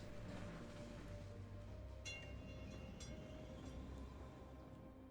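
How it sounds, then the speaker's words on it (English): A train rolls along a line in the city-building game Cities: Skylines, a faint, steady rumble with a few soft clanks mixed in. "all of these people are getting on the train"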